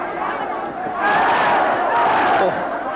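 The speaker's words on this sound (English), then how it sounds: "And the crowd chanting with that one. They're absolutely baying, aren't they" A boxing crowd at a bout between Khaosai Galaxy and Tae-Il Chang chants and bays, a dense roar that swells loudly after a second and holds steady almost to the end.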